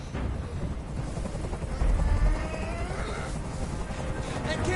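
A helicopter hovers in the video game Detroit: Become Human, a steady rumbling drone with low thumping beneath a dense wash of noise, swelling briefly louder midway and persisting throughout.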